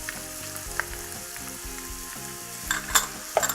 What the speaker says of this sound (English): Stir this in and saute this for another 5 minutes.